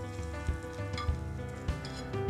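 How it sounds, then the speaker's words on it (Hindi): Hot tadka tempering sizzles and crackles as it is poured into Punjabi kadhi, a steady close frying hiss with occasional soft stirring thumps. "अब हम फ्लेम से सीधा उतार के इसको कड़ी में डाल देते हैं"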